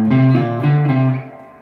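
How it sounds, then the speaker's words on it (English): Guitar plays a short ascending run of paired notes in thirds, each pair ringing clearly, close and fairly loud, then fading out into decay. "So we're basically going to play the scale in thirds"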